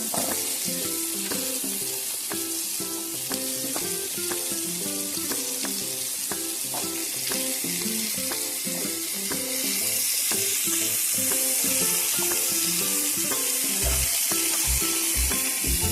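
Pumpkin frying in a pan for a vegetable dish with dried fish, a dense continuous sizzle up close with a regular series of scraping stirs and a few heavier knocks near the end.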